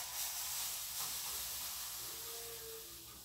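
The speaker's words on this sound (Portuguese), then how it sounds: "E já vou estar colocando para assar numa frigideira." An omelette of chia seeds and grated carrot cooks in a frying pan, giving a steady, soft hiss and sizzle that holds evenly close by, with no talking over it.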